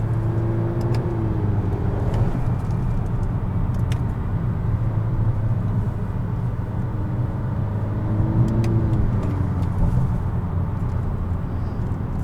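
A 2018 Honda Accord Sport with paddle shifters drives along a back road, its engine giving a loud, steady interior drone with mild rises in revs and continuous road rumble, no one talking.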